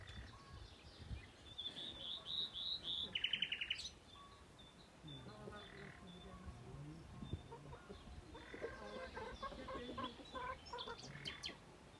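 Hens cluck and cackle in short bursts outdoors in a village hazelnut orchard, with a few chirpy bird calls mixed in and faint background noise throughout.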